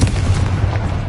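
A Confringo blasting spell explodes in Hogwarts Legacy, a short, loud, dense rumbling blast that fills the moment.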